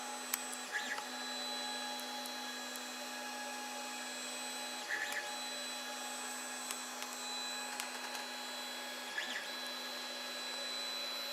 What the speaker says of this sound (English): Another on the Z stepper here, making it move left and right.